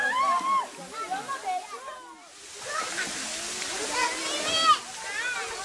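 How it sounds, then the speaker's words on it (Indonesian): Water pours steadily at Curug Cilember waterfall while visitors bathe and play in it; the rushing and splashing runs throughout with voices mixed in, briefly dipping near the middle. "pengunjung biasanya mandi dan bermain air terjun di air terjun 6 dan 7"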